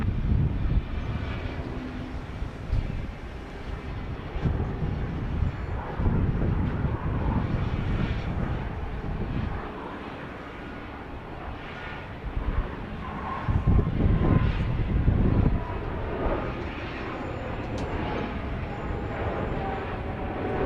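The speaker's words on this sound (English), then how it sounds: "G550, an aircraft from the origin point is not delineated by our friends at" Gulfstream G550 business jet at Dallas Love Field, a loud, sustained engine roar and rumble that swells and fades over about twenty seconds, heard alone without talk.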